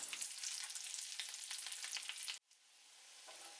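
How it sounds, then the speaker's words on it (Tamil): Chicken cutlets fry in hot oil with a steady, faint hiss and crackle that drops out abruptly partway through, then returns softly, close and with no voices. "இது கொஞ்சம் பொரியட்டும்."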